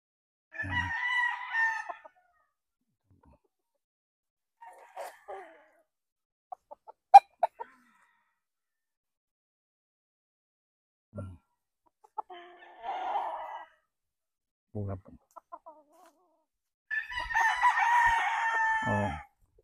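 A young sweater stag rooster crows in several close, loud bursts, with long crows at the start and end and shorter clucks and calls between them, against an otherwise quiet background.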